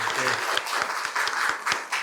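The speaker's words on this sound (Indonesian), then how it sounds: "beri tepuk tangan untuk kalian semuanya" Students in a classroom clap together after a lecture, a brisk cluster of hand claps with a voice talking at the start.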